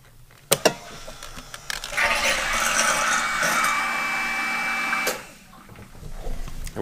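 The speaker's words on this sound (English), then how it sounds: "What I do know is that the bilge pump" A boat's bilge pump, run by hand because its float switch has failed, gives a couple of sharp clicks, then a steady electric motor whir for about three seconds before cutting off, close by with no talk.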